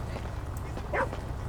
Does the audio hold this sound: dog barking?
yes